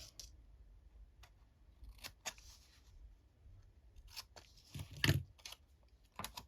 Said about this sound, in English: We'll just snip that at the top as well. So we'll snip those bits.